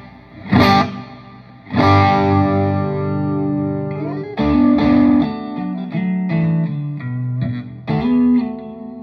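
Electric guitar chords and single notes played through a wet Strymon Ultraviolet reverb in an effects loop, each strum ringing out with a lingering, spacious tail; no voices.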